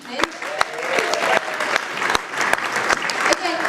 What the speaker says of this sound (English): I'd also like to give a huge round of applause to Pete Jenkins for organising this evening.